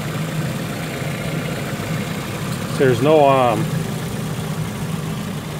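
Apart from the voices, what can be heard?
2007 Pontiac Vibe engine idling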